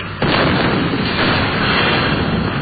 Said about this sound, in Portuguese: Foi uma explosão gigantesca.